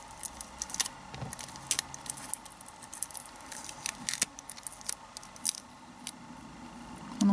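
Adhesive tape being handled, pulled and cut into several pieces during a craft session, heard as close, quiet crackles, snips and rustles scattered throughout with no talking.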